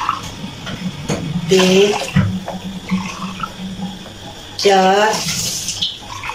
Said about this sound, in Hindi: ये छह गिलास मैंने डाल दिए यखनी के